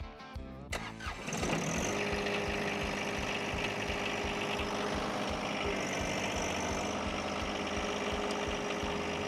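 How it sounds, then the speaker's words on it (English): A John Deere tractor's diesel engine cranks and starts, then settles into a steady, loud rumbling idle that continues without pause. "We're going to fire up the tractor and we're going to lift up our deck"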